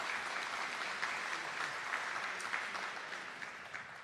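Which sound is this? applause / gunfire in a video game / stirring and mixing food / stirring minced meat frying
applause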